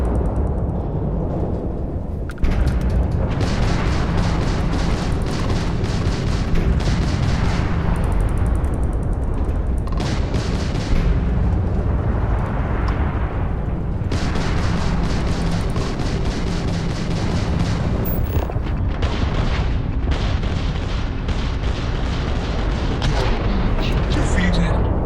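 Dense, continuous gunfire and heavy explosions roar through a Starfield combat sequence, booming blasts layered with rapid shots at close range, loud and almost unbroken for the whole stretch, with a short lull near the start.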